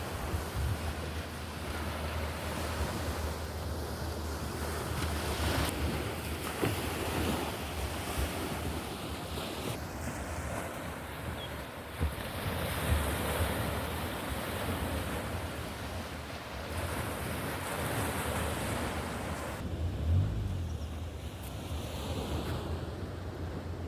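Surf washing onto a beach during a shoreline walk, a steady broadband roar of breaking waves with wind buffeting the microphone throughout, close and continuous with no speech.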